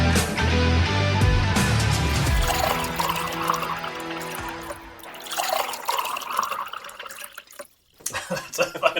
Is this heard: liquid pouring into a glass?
yes